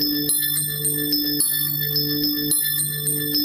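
Sonified oxygen molecule tones ring out in bell-like, pitched repeating pulses over a bed of carbon molecule tones, forming a steady rhythmic loop, clear and close with no voices.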